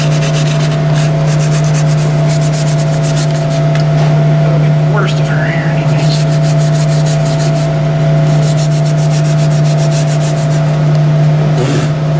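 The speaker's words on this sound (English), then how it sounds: "let's hit her with a bit of Scotch Brite" A Scotch-Brite pad scrubs a Ford 800 engine part with steady, rapid rubbing strokes close up. A constant mechanical hum runs underneath, and someone talks over it.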